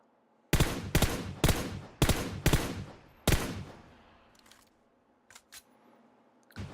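Gunfire from PUBG Mobile while standing still and shooting at targets: about six loud, sharp shots in an uneven burst, then a few fainter clicks, with no talking.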